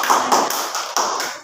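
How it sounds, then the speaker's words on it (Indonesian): In a classroom, a group claps in a short burst of about five quick, evenly spaced claps. "Oke, tepuk tangan buat semuanya."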